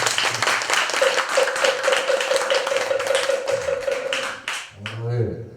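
Applause from the audience at a Buddhist memorial tea-offering ceremony honoring a master at Seongmoam temple in Gimje: dense, steady clapping for about four seconds, with a held musical tone underneath, then a voice speaking.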